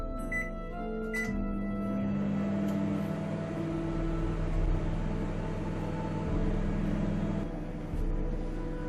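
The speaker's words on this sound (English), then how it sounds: "and get this in the microwave." A microwave oven heats a Rustlers double burger with a steady, even electrical hum and low rumble that runs unbroken throughout at moderate level, with no voices.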